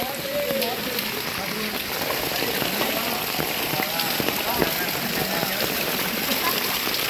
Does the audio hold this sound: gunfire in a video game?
no